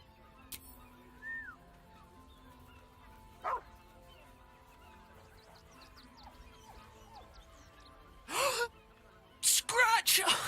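Scratch the dog in Baldur's Gate 3 gives a few short, bright barks and yips near the end, close and clear after a quiet stretch with soft whimpers and a little talk.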